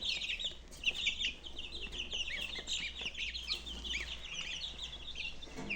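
Young goslings and other young poultry calling in a village yard, a continuous run of high, thin peeping and chirping calls, fairly quiet, with a low hum underneath.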